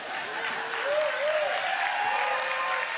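Audience at a conference talk on culture claps briefly and moderately loud, a dense patter of hands in a hall with some faint voices mixed in.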